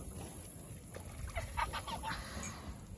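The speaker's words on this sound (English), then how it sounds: "Oh, they're geese." Geese at a lake honk in a short burst of several calls, mid-distance over a steady outdoor background hiss.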